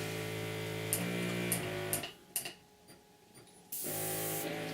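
A small airbrush compressor hums steadily, then stutters and pulses unevenly before cutting back in at full hum; no voices.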